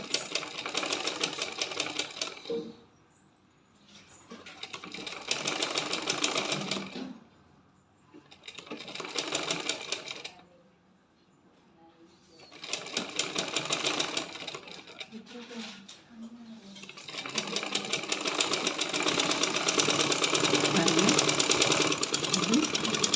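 Sewing machine stitching fabric in a tailoring class, running in bursts of several seconds with brief pauses between runs before a longer steady run, fairly close, with a voice talking over parts of it.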